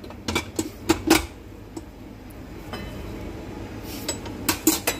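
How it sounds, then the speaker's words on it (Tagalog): Softened cream cheese being stirred in a pan, giving a few light utensil clinks and scrapes in short clusters near the start and end, with quieter gaps between. "paikutin muna natin yung cream cheese"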